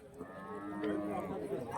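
Cattle moo at a busy Friday cow market in Kundarapalli, Krishnagiri, a long drawn-out low call rising over a murmur of people talking nearby.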